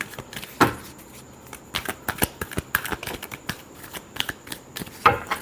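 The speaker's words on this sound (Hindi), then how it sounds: "last shuffle" Tarot cards are riffled and shuffled by hand at close range, giving quick dry flicks and snaps in irregular bursts with brief pauses between them.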